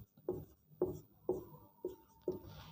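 A teacher writes math on a board in a class 11 physics lecture, producing five evenly spaced, faint, close strokes of chalk or marker with no talk.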